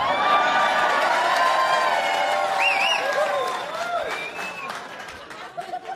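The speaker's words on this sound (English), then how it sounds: "That's the biggest cheer you've given me all night!" A stand-up comedy crowd cheering, whooping and applauding loudly together in a club, the roar sustained and then tapering off near the end.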